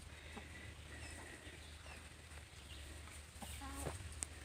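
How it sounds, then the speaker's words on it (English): Chickens cluck softly at a distance over a low steady hum, with a few sharper calls near the end. "But there's some happy chickens."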